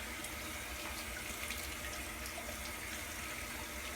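Running tap water pours steadily over a Schick Injector razor as it is rinsed, a faint, even hiss of flowing water with no talking.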